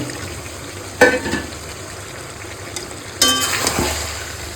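Steady frying sizzle of a meat curry with two bursts of stirring and scraping as fried potatoes are added to the pan, the second louder, no voices.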